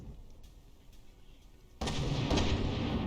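Artillery fire from a tank in the From The Depths battle game: a faint, distant rumble, then a sudden loud blast that rolls on into heavy, sustained booming.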